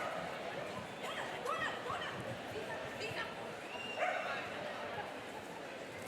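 A Shetland sheepdog barks and yips in short scattered bursts at an agility competition, faint and distant beneath a commentator's voice and crowd murmur.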